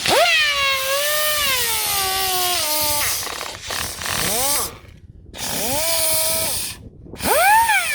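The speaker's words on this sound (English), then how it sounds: "so a little touch with the sander" A power sander whines steadily up close while taking a sharp edge off during a camper van mains hookup fitting, its pitch sliding down and rising again as the tool bites and is lifted, with brief breaks between passes.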